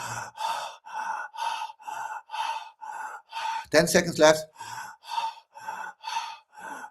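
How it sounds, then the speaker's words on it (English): Rapid, rhythmic hyperventilation-style breathing during a guided breathing exercise, about a dozen quick breaths close to the mic, with a brief burst of speech in the middle. "Keep on breathing like that. Yeah, it's like hyperventilating."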